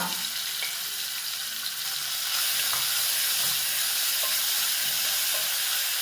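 Blended onion paste sautéing in a pan for kurma gives a steady, close, continuous sizzle and hiss with soft bubbling, with no talk.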